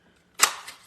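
A single sharp crunch of a paper punch cutting a circle from paper, close and crisp, followed by a faint rustle and a second softer click, with no talking.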